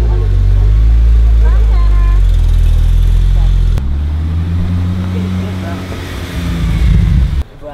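A Porsche Turbo S sports car's engine roars loud and close on a race track, a sustained deep drone that drops and shifts mid-way, then swells again before cutting off, with people talking over it.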